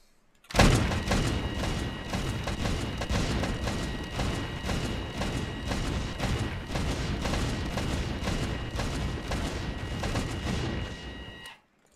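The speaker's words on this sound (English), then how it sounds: "So a little better penetration and quite a bit more damage on the heavy autocannon with the armor piercing" Rapid heavy autocannon fire with armor-piercing rounds slams into drums in the Stormworks game, a dense unbroken stream of loud booming shots running about eleven seconds before cutting off abruptly.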